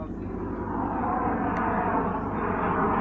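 Airplane engine drone in flight, a steady broad roar holding at constant loudness throughout, fairly close and continuous, with no talk over it.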